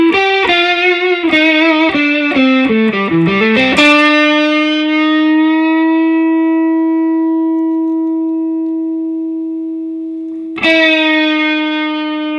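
A 1997 PRS Custom 24 electric guitar through its overdriven neck pickup plays a quick run of picked notes, then a long sustained note rings out before a final struck chord sustains, loud and close.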